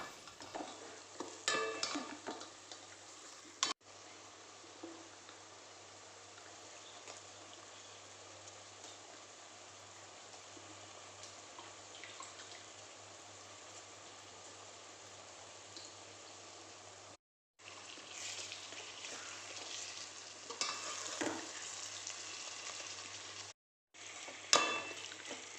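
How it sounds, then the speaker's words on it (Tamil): Prawns sauté in oil in a pan for a tamarind curry, with a steady sizzle and frying crackle, occasional stirring scrapes, and brief dropouts in the sound. "சேர்த்துட்டு நல்லா இந்த எண்ணெய் கூடவே நல்லா வதக்கி விடணும்"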